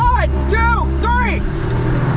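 An Audi S3 8V and an 8Y S3 launch side by side in a dig race, engines wailing upward through quick gear changes, the revs climbing, dropping and climbing again, loud and close inside the car.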